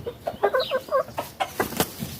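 Hens and a rooster cluck on a farm, a close series of short clucks and murmurs in an uneven rhythm, with a few sharper calls toward the end.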